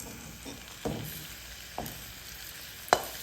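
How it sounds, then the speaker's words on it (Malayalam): Medium-cut pieces of washed liver drop into a hot pan for a pepper liver fry, each one setting off a sharp sizzle. Three distinct hisses sound about a second apart over a faint background crackle, with no talking. "ഈ ചട്ടിയിലേക്ക് നമ്മൾ കഴുകി വെച്ചേക്കുന്ന ലിവർ ചേർത്ത് കൊടുക്കുകയാണ്."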